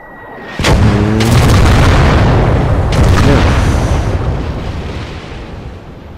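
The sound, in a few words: artillery barrage exploding in video game Gates of Hell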